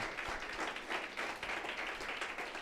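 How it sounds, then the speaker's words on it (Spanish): Church congregation giving an ovation of clapping during a worship service, a faint, steady wash of many hands clapping together. "Dale una fuerte ovación de palmas a nuestro Señor Jesucristo"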